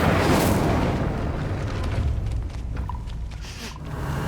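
Incendio fire spell cast in Hogwarts Legacy, a loud whooshing blast that starts strong and settles into a rushing, crackling roar before fading slightly.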